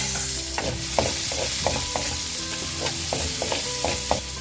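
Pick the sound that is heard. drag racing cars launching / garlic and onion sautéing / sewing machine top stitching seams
garlic and onion sautéing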